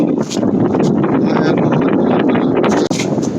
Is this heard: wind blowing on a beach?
yes